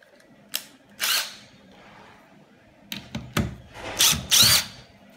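Cordless power drill backing a set screw out of a motorized roller shade tube, heard as several short, close whirring bursts separated by quiet pauses, with no talking.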